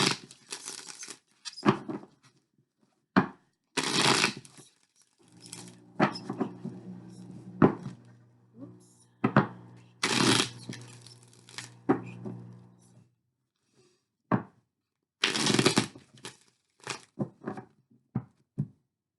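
Tarot cards shuffled by hand: bursts of crisp riffling and papery flicks repeat in uneven clusters, separated by short pauses, close up with a faint hum underneath.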